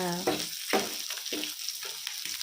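Chicken sizzles and fries in a pan at close range, a steady crackling hiss broken by a few louder stirring scrapes, with no talk over it.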